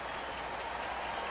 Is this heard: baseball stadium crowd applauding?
yes